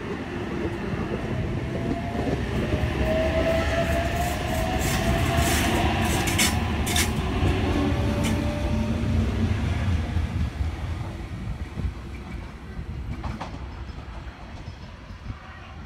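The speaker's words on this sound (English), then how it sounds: "We have a Hamilton Newcastle service about to depart platform number 2." A Hamilton–Newcastle train pulls away from the platform at Fassifern station, a long rumbling roll with motor whine rising and rail clatter, fading gradually as it departs.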